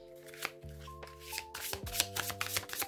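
Oracle cards are shuffled for a card reading in quick, close riffling bursts and soft slaps over quiet background music with sustained tones.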